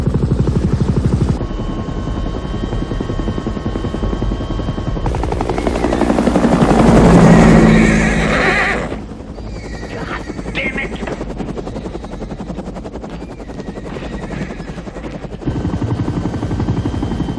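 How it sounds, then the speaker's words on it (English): A helicopter flies in over an estate for a grand arrival, its rotor chop swelling loud and close mid-clip before easing back under a steady music and background bed. "we thought the helicopter was a terrific way to start"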